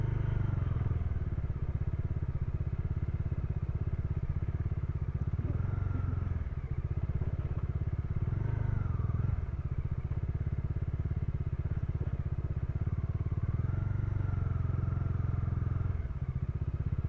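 A motorcycle rides off road along a dry, sandy grassland track, its engine droning steadily and up close throughout, with small rises in revs, occasional clatters and thumps from the rough ground.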